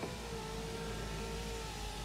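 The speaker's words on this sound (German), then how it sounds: "Wir haben hier Fensterheber, zeige ich euch einmal. Elektrisch, links und rechts." An electric power window on a Ligier JS 60 microcar runs with a steady, faint motor whine, continuous for about two seconds in a quiet interior.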